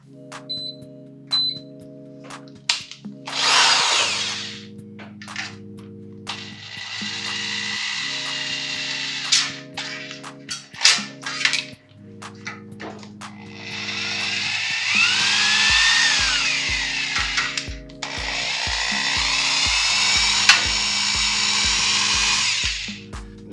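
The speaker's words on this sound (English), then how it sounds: "This is a wine aerator, and it stirs stuff up really nicely. So let's attach that to our drill" A power drill spinning a wine aerator to stir mead whirs in several bursts, spinning up loudly and stopping, with clicks and knocks between runs.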